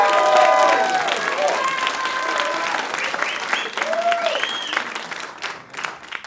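An audience at a stand-up comedy show breaks into loud applause mixed with cheers and whoops, gradually tapering off over several seconds.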